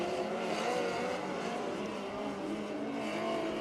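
USAC National Sprint Car racing at Circle City: a dense, continuous roar of several sprint car engines on the track, steady and loud throughout with no talk over it.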